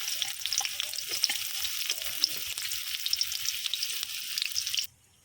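Chopped onion hitting hot oil in a pan for a gourd curry, a bright crackling sizzle with small pops and stirring clicks, close and steady, then cutting off abruptly near the end.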